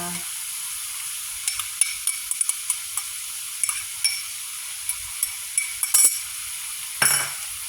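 Garlic and roasted chili paste sizzle in a pan while being stir-fried for a spicy mussel dish, a steady close hiss broken by regular light clinks of a spatula or spoon against the pan.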